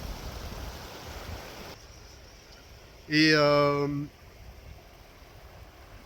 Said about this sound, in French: la rivière est calme